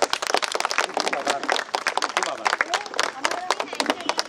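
A crowd at a garba dance competition in Amravati breaks into sharp, uneven clapping honoring a dance guru, with voices mixed in among the claps.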